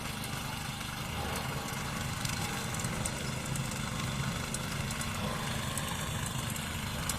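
Steady engine drone of a tilling machine working the soil of a rice field, continuous and moderately loud with no pauses.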